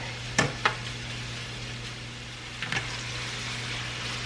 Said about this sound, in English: I'm gonna continue to let this kind of fry up a little bit more